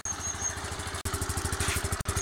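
A scooter engine idles close by in a steady, rapid putter, with two brief cutouts along the way and no voices.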